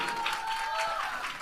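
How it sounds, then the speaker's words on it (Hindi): Brief burst of crowd applause at a Bollywood film premiere party, a dense wash of clapping lasting about a second and a half with a faint steady tone running underneath. "एक बार जोरदार तालियां वरुण के लिए।"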